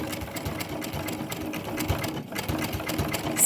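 A sewing machine runs steadily at slow speed, stitching a herringbone pattern with 50-weight thread on a crazy patch purse, its rapid needle clatter continuous and close with no talking.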